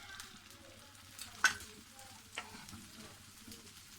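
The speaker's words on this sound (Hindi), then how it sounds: "इसको स्लाइस को अच्छी तरह डिप करेंगे दोनों साइड से और इसको फिर हम फ्राई कर लेंगे।" Egg-battered bread slices fry quietly in a pan, a faint low sizzle broken by a sharp utensil tap and a lighter scrape, heard close with no voices.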